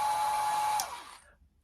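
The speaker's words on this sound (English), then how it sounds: "just blow my hairdryer on a low setting" A hair dryer on a low setting blows on a lace front wig with a steady close whir and faint whine, then switches off and spins down to quiet.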